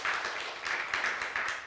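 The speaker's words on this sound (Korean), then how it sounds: "박수 한번 주세요." A church congregation applauding during a Sunday worship service, moderately loud clapping that swells in uneven bursts and ends quickly.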